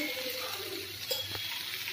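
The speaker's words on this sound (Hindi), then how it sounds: "हल्दी नमक को थोड़े चलाते रहेंगे" Brinjal frying with turmeric and salt gives a soft, low sizzle in the pan, and gentle stirring adds faint scraping and a light clink partway through.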